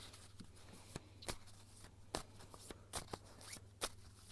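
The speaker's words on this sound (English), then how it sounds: "I'm gonna shuffle and see what the cards have to say" Tarot cards are shuffled by hand in a quiet room, a series of crisp riffling bursts and soft slaps in irregular rhythm, close and fairly faint over a low steady hum, without speech.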